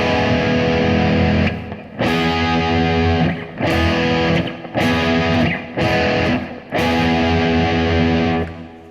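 Heavily distorted electric guitar chords in an 80s heavy metal style, stretched add-9 voicings struck one after another in a series of loud, sustained blasts separated by short gaps, with no voice over them.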